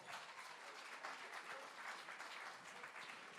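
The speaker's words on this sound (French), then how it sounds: "c'était un petit applaudissement qui n'est pas allé jusqu'en Afrique" A small church congregation gives a short burst of light applause. The clapping is even, quiet and somewhat distant, and lasts a few seconds with no voices over it.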